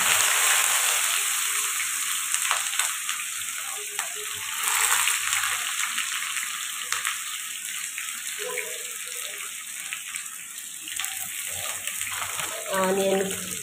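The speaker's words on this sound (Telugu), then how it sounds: "ఇప్పుడు ఆనియన్స్ వేసేస్తున్నాము." Onions added after cumin to hot oil sizzle and crackle steadily in a frying pan while an Andhra-style fish curry is cooked, with soft stirring and clinks close by.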